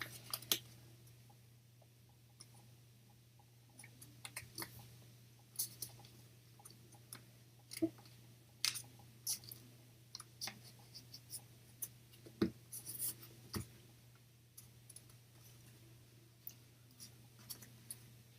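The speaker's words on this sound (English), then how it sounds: "Take the right side and fold it up against the center line." Paper being folded for an origami heart gives faint, soft creases and small scratchy taps scattered through a quiet room, with no talk.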